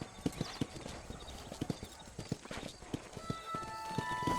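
Horse hooves clip-clopping and galloping in the video game Red Dead Redemption, a quick irregular run of hoof strikes close by with a faint whinny, and music creeping in toward the end.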